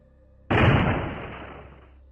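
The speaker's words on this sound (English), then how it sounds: "I heard a loud crash come from my room" A loud crash in a room for an animated horror story hits once, sudden and heavy, then decays through a long booming tail, with no voices.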